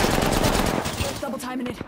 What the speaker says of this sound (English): We got a guy shooting us in our back.